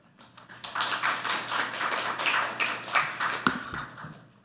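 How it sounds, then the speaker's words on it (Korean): An audience applauds at a National Assembly seminar on security token offerings, welcoming a lawyer to the podium: dense, steady clapping close by for about four seconds, with no talking over it. "큰 박수로 모셔보겠습니다"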